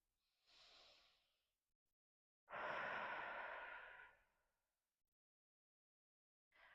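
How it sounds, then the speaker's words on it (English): A deep breath during a relaxation and stretching routine: a soft, brief intake, then a longer, fuller exhale like a sigh, close and quiet in a silent room, followed by the start of another breath. "Deep breath."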